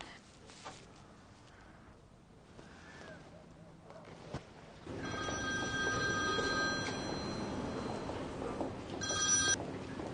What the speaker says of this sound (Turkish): Al telefonu Macit'ini ara